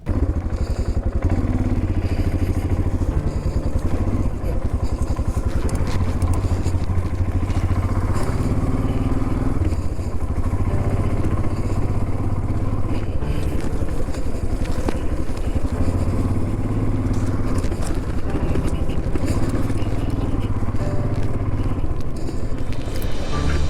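A motorcycle engine runs continuously while riding offroad on rough Indian tracks, a steady loud drone with rattling and clatter from the chassis over bumpy ground, no voices.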